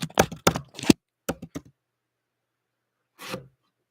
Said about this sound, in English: So I guess I'll just type it in the chat.